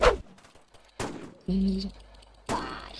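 Gunfire in a Roblox zombie school video game, several separate loud bursts of shots with short gaps between them, one of them followed by a brief tonal game sound.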